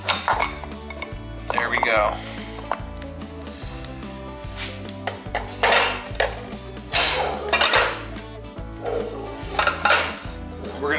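Metal differential gear parts from a Peerless MST205 transaxle clink and clatter as they drop one by one into a big, empty, clean saucepan, with bright ringing hits scattered over a steady low hum and a few spoken words.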